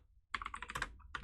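Keys on a computer keyboard clatter in a quick burst of close taps while a command is entered, after a brief pause, with a final keystroke at the end.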